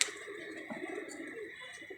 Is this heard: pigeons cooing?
yes